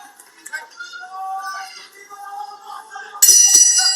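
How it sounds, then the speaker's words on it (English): A bright boxing final bell rings out near the end, loud and sustained, following a stretch of background crowd noise and tones at a World Series of Boxing bout. "But there's the final bell."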